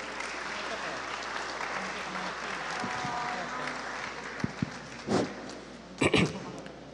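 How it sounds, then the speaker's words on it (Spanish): Audience at a regional industrial forum applauds to welcome a speaker, with sustained broad clapping across the hall, then a few louder nearby claps and bumps near the end. "Lo recibimos con fuertes aplausos"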